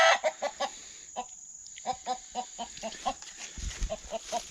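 A few hens in a farmyard cluck in a steady, close, rhythmic series of short clucks with a brief pause partway through, and there is a faint low rustle near the end.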